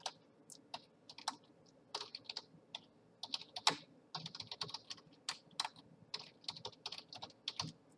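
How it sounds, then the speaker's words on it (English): Fingers type on a computer keyboard in quick, irregular clusters of soft, close clicks, with brief pauses between bursts and no voices. "You can either type the translation manually by yourself"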